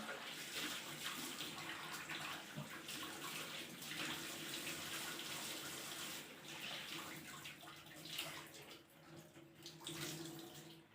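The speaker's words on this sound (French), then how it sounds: "Là, je vais juste vous nettoyer le visage." Water runs steadily from a tap into a sink while someone washes their face, a continuous broad splashing rush that holds fairly even for the whole stretch with small surges and dips.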